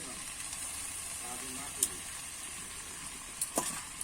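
Chicken stir-fried in a pan with fried onion fritters gives a steady low sizzle, with a few sharp clicks of a spatula against the pan. It stays faint and constant, and quiet talk can be heard under it.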